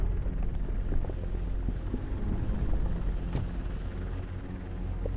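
A TV news helicopter in the video game Robocop: Rogue City thrums overhead with a loud, steady rotor rumble and engine drone, mixed with faint clanks and a brief sharp click.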